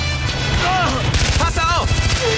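Rapid gunfire in the Far Cry 4 video game rattles in quick bursts, loud and close, while voices call out over the shooting.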